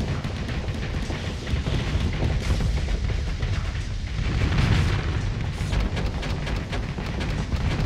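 A spaceship cannon fires during a space battle in the Starsector game, a dense rumbling barrage of booms and blasts rolling on continuously with a heavier swell midway.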